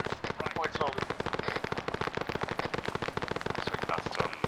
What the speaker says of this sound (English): there's a lot of gunfire going out around here